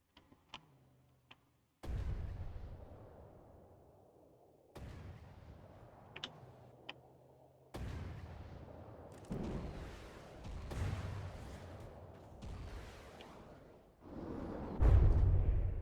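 Heavy gun detonations boom in the naval combat game From the Depths: a series of loud, separate blasts a few seconds apart, each rumbling away, with light ticking between them.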